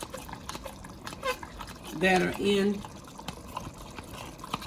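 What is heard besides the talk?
cornstarch slurry poured into turkey chili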